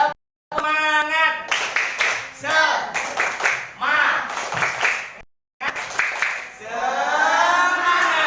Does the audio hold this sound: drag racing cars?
no